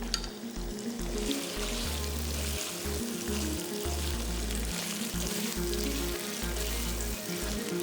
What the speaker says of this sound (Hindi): एक मिनट तक थोड़े से हाई फ्लेम पे हम इसको भून लेते हैं